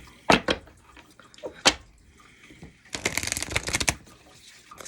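A deck of affirmation cards is shuffled close by in quick riffling bursts, a few short flicks early on and then a longer dense riffle near the end, with no talking.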